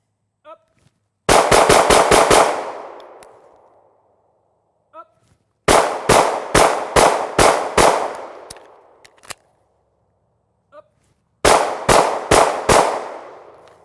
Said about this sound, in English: So I'll start out with just multiple shots on one target.